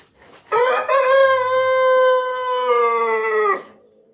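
A rooster crows loudly and close by in one long drawn-out call, with faint clucking from other birds around it.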